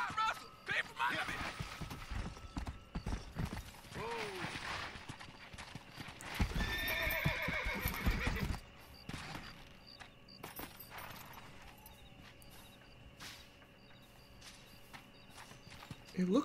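Horse hooves clip-clop in steady stride in the Red Dead Redemption video game, with whinnies and game sounds; a person talks over the middle and later stretches.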